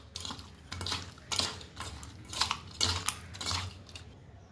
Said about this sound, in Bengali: এইবার এর মধ্যে প্রথমে আমি দেব পরিমাণ মতো নুন আর পরিমাণ মতো হলুদ দিয়ে আমি এটাকে ভালো মতো মাখিয়ে নেব